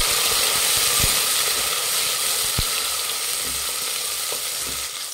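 Soaked dried peas frying with onions in a pan for plain pulao, a loud continuous sizzle close up, with occasional clunks from stirring.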